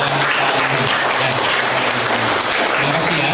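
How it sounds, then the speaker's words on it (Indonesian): Schoolchildren clapping together during a class visit to an Islamic history museum, a loud continuous wash of applause from a group close by, steady throughout with faint voices underneath. "Tepuk tangan untuk"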